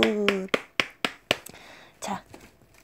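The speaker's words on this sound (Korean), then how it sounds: "박수!" A few sharp, close hand claps land in a quick, slightly uneven series, with a voice speaking briefly at the start and again near the end.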